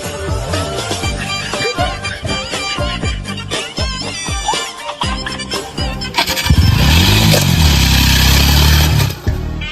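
A nearby crashed KTM motorcycle engine revs in repeated bursts, then settles into a louder sustained roar toward the end.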